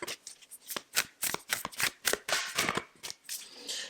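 Moonchild Tarot cards being shuffled by hand in a quick series of crisp riffling snaps and flutters, close and loud, with no voice over them.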